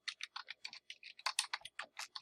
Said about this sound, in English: when you get into the description and you start typing, this is where you type your description